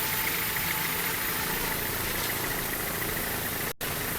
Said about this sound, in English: Powered by twin 750-horsepower Scorpion racing engines with Mercury number 6 drive.